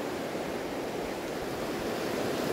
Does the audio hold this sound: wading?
yes